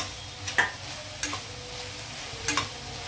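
Coriander, mint, curry leaves and green chillies frying in a pan for green peas pulao, with a low steady sizzle and three short scraping stirs spaced across a few seconds, no voices.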